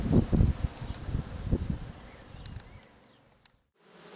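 Honeybees buzzing around hives at a calm apiary after a swarm has returned, a steady close hum with a high tonal whine, fading toward the end.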